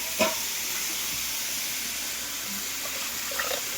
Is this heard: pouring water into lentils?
yes